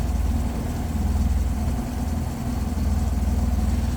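Four-cylinder engine of a 1971 Opel GT with an added aluminum radiator, idling smoothly as a steady low rumble heard close up with no voices.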